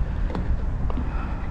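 Steady wind buffeting the microphone while cycling along the Rhine riverside bike path, a constant loud rumble with faint passing knocks and no talk.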